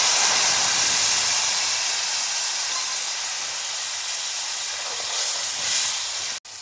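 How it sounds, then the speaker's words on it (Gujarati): Prepared masala hits hot oil tempered with mustard seeds, cumin and asafoetida for a Kathiyawadi kaju gathiya curry, giving a loud, steady sizzling hiss close by that eases slightly and ends abruptly. "મસાલા આપણે બનાવી રાખ્યો હતો એને નાખી દઈશું વધારમાં ડાયરેક્ટ"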